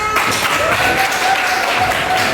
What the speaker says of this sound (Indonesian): Sekali lagi tepuk tangan untuk kelompok